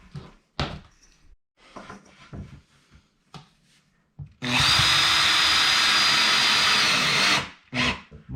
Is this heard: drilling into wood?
yes